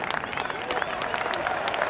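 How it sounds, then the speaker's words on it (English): Dense applause from a party crowd in the video game Hitman (Sapienza level), steady rapid clapping filling the whole short stretch at moderate loudness. "Come on, a big round of applause"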